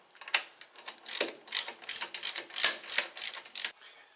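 A ratchet wrench clicks rapidly in repeated bursts, close and clear, as the ball joint bolts on a VW Passat 35i are tightened during a lower ball joint replacement.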